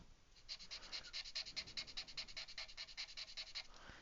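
Alcohol marker ink rubbed over paper to blend colours, a quiet, steady run of quick scratchy back-and-forth strokes close up, with no talking over it.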